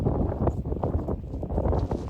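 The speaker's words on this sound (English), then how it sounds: "It is so windy right now." Strong winter wind on a Scottish mountain glen buffets the microphone with a loud, continuous low rumble that gusts and pulses unevenly.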